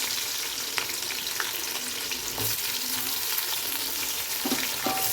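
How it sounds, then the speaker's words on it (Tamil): Sliced onions for chicken dum biryani sizzle in hot oil, a soft continuous hiss with occasional light scrapes as they are stirred. "ஆனியன் நல்லா ப்ரௌனிஷ் கலரில் ஃப்ரை ஆகணுங்க"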